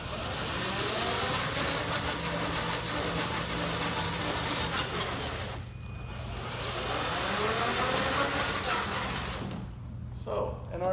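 A lifted Blade XR vehicle runs its motors, the wheels spinning freely with a continuous whirring drone that stops briefly twice, while a person talks over it.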